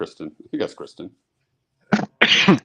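One sharp sneeze bursts out at close range near the end, after a stretch of people talking.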